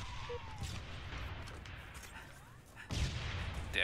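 Gunfire rattles through a Halo Reach free-for-all match, a busy low rumble of shots that ends in a sharper, louder burst near the end.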